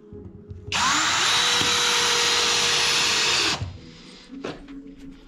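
A power drill drives a screw into an OSB board laid as a second glued layer on a wooden floor. A loud, steady motor whine holds for about three seconds and then cuts off, followed by a few faint clicks and knocks.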